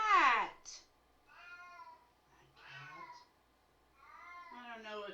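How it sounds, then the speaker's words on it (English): A house cat meows several times in close succession, with drawn-out, wavering cries and softer chirps in between, fairly quiet and alone. "Cat!"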